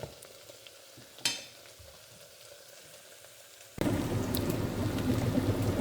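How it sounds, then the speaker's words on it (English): Diced potatoes for a breakfast hash fry in a pan as they are turned over, a quiet scrape and stir followed by a loud, steady sizzle that swells and holds to the end. "You can see I'm going to churn these potatoes."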